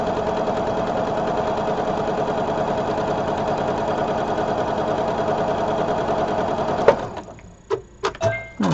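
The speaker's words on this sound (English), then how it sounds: "So I'm almost finished sewing these 2 strips together." A sewing machine runs continuously at a steady fast rhythmic whir while stitching two quilt strips together, then stops around the seventh second and is followed by a few brief clicks and handling thumps.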